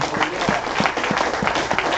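A crowd claps steadily with dense, continuous applause at close range and no pauses.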